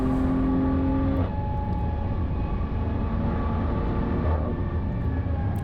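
A BMW M4 racing around the Nurburgring in a simulator, its engine note loud and sustained with clear harmonic tones that shift pitch as it accelerates back on the power.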